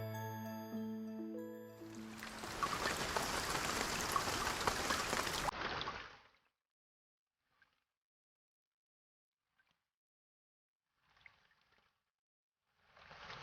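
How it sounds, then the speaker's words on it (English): Heavy rain in a storybook soundtrack, a dense wide roar of downpour that starts after a short musical chime, fades out after a few seconds, and leaves near silence with a few faint drips. "It rained heavily the next day."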